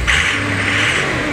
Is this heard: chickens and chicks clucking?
no